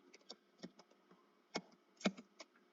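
Coordinates are tapped in on a computer keyboard, a faint, quiet run of scattered key clicks with a few sharper presses.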